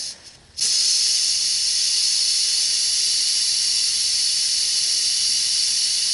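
Propane gas hisses steadily out of an open valve while refilling a 1-pound bottle, a sudden sharp onset followed by a loud, continuous high-pitched spray that holds unchanged to the end.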